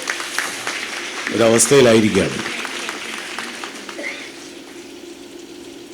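Audience applause rises as a broad, wash-like patter beneath a speaker addressing a nursing gathering, peaking briefly in the middle and then fading into a lower hum while he keeps talking.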